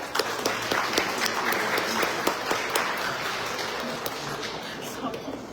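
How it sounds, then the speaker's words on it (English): Sustained applause from a gala audience honoring brain injury survivors in a banquet hall at the Crystal Plaza in Livingston, New Jersey, a dense steady wash of many hands clapping close and loud, filling the room throughout. "Let's give them a round of applause."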